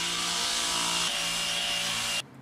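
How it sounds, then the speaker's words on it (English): A power grinder sands rust off the metal floor of a school bus being converted, making a loud, continuous, steady abrasive whine that stops abruptly at the end. "To sand this, we got this grinder."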